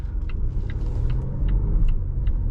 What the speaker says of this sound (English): I can't believe how effortlessly this thing accelerates.